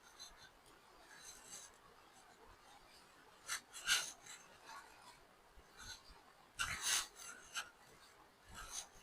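A soft mulmul khadi cotton saree, about 5.5 metres long, is shaken out and unfolded, giving quiet fabric rustles and brisker flaps close by, with two sharper snaps midway and toward the end.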